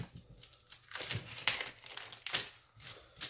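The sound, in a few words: cutting away a cryovac bag from beef rib loin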